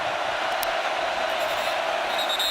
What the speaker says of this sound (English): that crowd noise is real